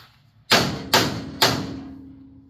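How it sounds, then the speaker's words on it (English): Three sharp, heavy hammer blows strike metal in quick succession, each ringing briefly before fading, as a hammer drives down the plunger of a New Holland baler. "Now I'm going to give it a hit to drive it down."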